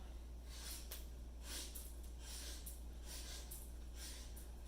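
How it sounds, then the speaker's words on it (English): A person takes sharp, forceful sniffs in through the nose during a standing stress-relief breathing drill, repeating in a quick, steady rhythm of close bursts with no talking. "Now let's sniff it out one more time."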